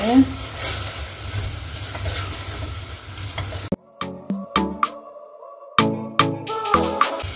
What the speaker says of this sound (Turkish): Şimdi yaklaşık e, biraz tepeleme bir yemek kaşığı unu ekliyorum. Kokusu çıkana kadar kavuruyorum.